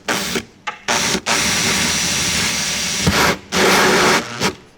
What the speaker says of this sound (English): I'm just going to use this hole saw to drill our holes.